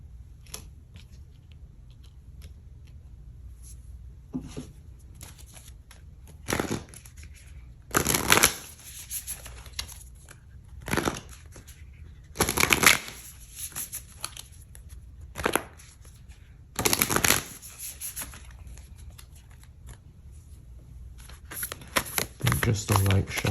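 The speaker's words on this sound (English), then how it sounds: "Just a light shuffle," A deck of cards gets a light shuffle, heard as several quick crisp riffling bursts spaced a few seconds apart, close and fairly quiet, with soft handling rustles and faint background hiss between them.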